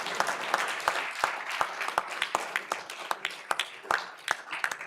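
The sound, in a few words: audience applause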